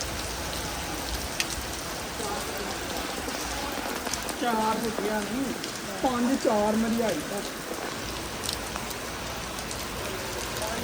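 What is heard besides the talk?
heavy rain falling in Spain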